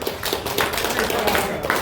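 A group at a yoga session claps in applause, with uneven bursts of hand claps rising and falling, and voices underneath.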